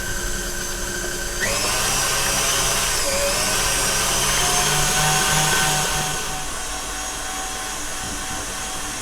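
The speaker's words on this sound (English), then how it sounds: "that's the cream now whisked" Electric mixer whisking cream, a motor whine that jumps up in pitch and runs steadily for several seconds before easing down, loud and close.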